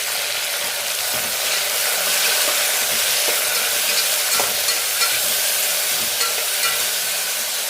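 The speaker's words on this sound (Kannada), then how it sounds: "ಎರಡನ್ನೂ ಸೇರಿಸಿ ಚೆನ್ನಾಗಿ ಫ್ರೈ ಮಾಡ್ಕೊಳ್ಳೋಣ." Chopped tomatoes, one large and one small, fry in oil for a chutney powder, giving a steady broadband sizzle with scattered scraping stirs, close and continuous throughout.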